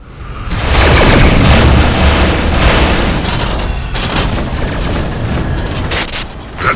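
Flak cannons fire steadily in the space combat game Rebel Galaxy, a dense continuous barrage of booming shots that is loud and sustained throughout.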